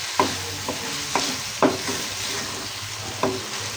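Okra bhindi masala roasts in a pan while a spatula stirs it, making several sharp scraping strokes at irregular intervals over a steady background sizzle, close and clear.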